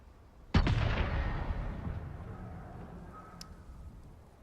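A single heavy gunshot blast in a video game, close and loud, with a long rumbling decay and a faint metallic ping afterward.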